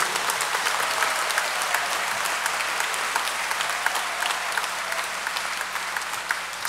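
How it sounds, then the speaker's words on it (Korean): A crowd at a Catholic charismatic renewal national convention gives sustained applause of thanks, many hands clapping in a dense, even wash with sharper individual claps standing out. "다시 한번 감사의 박수"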